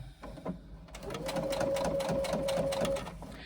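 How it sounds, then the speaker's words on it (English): A sewing machine stitches a 3/8 inch seam joining vinyl or cork to a bag pocket, a steady close whirring run of about two seconds after a few faint handling taps, with no talking. "We will sew this on with a 3/8 inch seam"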